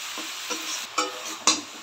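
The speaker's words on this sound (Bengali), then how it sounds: "এবার পুঁই শাকগুলো দিয়ে দিচ্ছি।" Malabar spinach stir-fries with spices in a hot pan, a soft sizzle punctuated by a few sharp scraping strokes of stirring.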